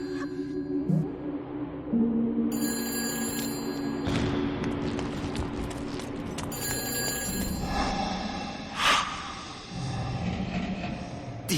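A telephone ringing in the video game Shadows of the Damned, with bright repeated ring bursts cutting through an eerie game soundscape of clatter and ambient tones, no voices.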